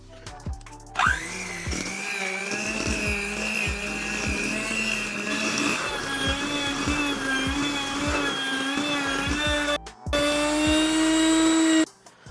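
Electric mixer whirring steadily as egg, creamy peanut butter and vanilla extract are beaten together for peanut butter cookie dough, a loud continuous motor drone with brief dips and restarts near the end.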